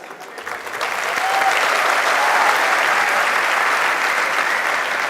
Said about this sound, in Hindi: देख लो कितने सारे लोगों की आवाजें आई है।